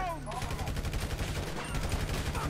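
Rapid gunfire from a weapon in Grand Theft Auto V, a dense run of shots under steady game noise for the whole stretch.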